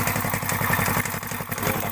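Small engine running steadily, a rapid even putter with clatter, a slightly smoky engine beside a workshop building an angle-bar frame, close and continuous with no talk.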